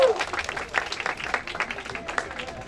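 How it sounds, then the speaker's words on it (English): Audience applause at a political campaign gathering with Haitian supporters: scattered, fairly light clapping throughout, mixed with crowd voices and some cheering. "And one more round of applause for Leonard Lee, please."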